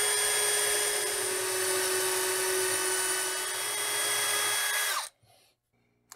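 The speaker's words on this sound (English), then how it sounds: "drill the other one basically straight across from it behind the rear rail" A small high-pitched drill whines steadily, close and loud, boring feeder wire holes through a model railroad layout beside the rail, then winds down and stops abruptly near the end.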